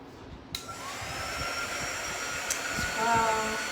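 A dryer blowing over painted house-shaped wood cutouts starts abruptly with a loud steady whooshing whine, running continuously close by with small shifts in pitch and light knocks underneath.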